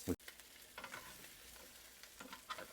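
Raw lobster shells sizzle quietly in a pan, a faint, steady frying hiss broken by a sharp scrape at the start and brief stirring bursts.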